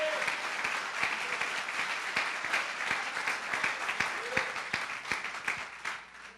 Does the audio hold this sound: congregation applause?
yes